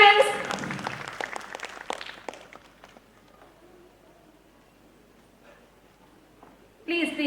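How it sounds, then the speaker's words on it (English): Audience applause at a preschool annual day function, with a burst of clapping that fades over a few seconds, a quiet stretch, then a fresh loud round at the end, mixed with a voice. "I need a huge round of applause for that amazing confidence"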